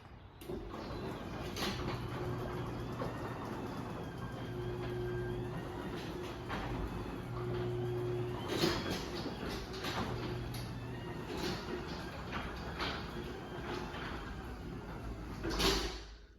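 Chamberlain LW5000EV garage door opener driving a residential garage door down, a steady mechanical hum and rumble with intermittent clicks and clunks, ending with a louder thump near the close.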